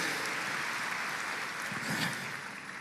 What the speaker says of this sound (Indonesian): Ayo sekarang kita tepuk tangan semuanya bersama-sama